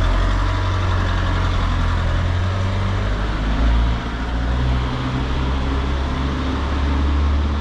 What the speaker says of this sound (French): Un camion au milieu de la route.